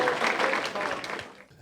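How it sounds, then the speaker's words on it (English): Audience clapping for inductees at the Knoxville Raceway Hall of Fame ceremony, a short burst of steady applause from a crowd that thins out toward the end. "How about a round of applause for Billy, Diana, and Carrie?"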